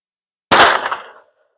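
A single sharp shot from a Smith and Wesson Bodyguard .380 pistol cracks loud and close, then rings out in a decaying tail lasting well under a second, with no talking.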